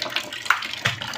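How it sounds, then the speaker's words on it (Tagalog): Water pours into a basin of soaking laundry during a home wash. It is a short, close splashing and gurgling with a couple of brighter sloshes and no talk. "Dagdagan ko ng tubig."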